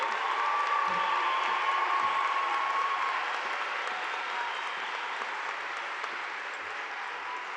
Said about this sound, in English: let's give a big round of applause for the graduating class of 22